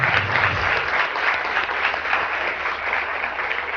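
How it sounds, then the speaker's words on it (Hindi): Studio audience applauding on a Pakistani morning TV show, a dense, steady wash of clapping that holds evenly for several seconds with no voices over it. "बहुत सारी तालियां"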